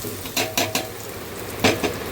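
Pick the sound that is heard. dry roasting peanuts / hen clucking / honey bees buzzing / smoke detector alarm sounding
dry roasting peanuts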